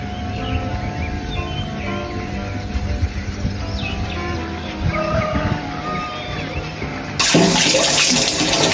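Water runs steadily from a tap during a morning face wash, close and continuous, then swells into a louder, brighter rush near the end; faint birdsong and background rumble sit beneath it.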